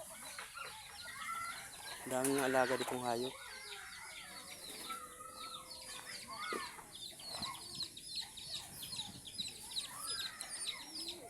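Chickens cluck and a rooster gives a short crow in a rural farmyard where pigeons are also kept. A voice speaks over the fairly faint, scattered bird calls.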